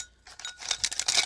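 Wooden sticks rattling and clinking against each other and a jar as they are drawn out, a quick cluster of small bright clicks, close and quiet.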